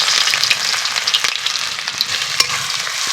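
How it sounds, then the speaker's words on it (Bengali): Chopped onion sizzles steadily in well-heated oil for a samosa filling, a continuous bright crackling hiss with small pops, close and alone without any voices. "তেলটাকে খুব ভালো করে গরম করে নিয়েছি। এখন তেলের মধ্যে পেঁয়াজ কুচি দিয়ে দিচ্ছি।"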